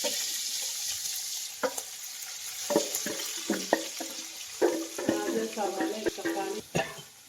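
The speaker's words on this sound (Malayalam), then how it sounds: "അപ്പോൾ നമ്മൾ സവാള ഇടുവാണ് ചൂടായിരിക്കുന്ന പാനിലേക്കാണ് നമ്മൾ ഇടുന്നത്" Sliced onions drop into a hot pan for a simple biryani and start sizzling, with a steady hiss under scattered clinks and scraping stirs that grow busier toward the end, close by.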